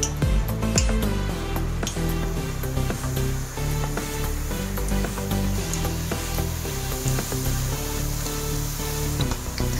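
Wheat flour papdi fry in hot oil in a kadhai, a loud, close, steady hiss with constant fine bubbling and crackle and no voices.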